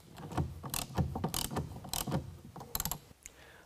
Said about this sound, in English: take a half inch and tighten down all the way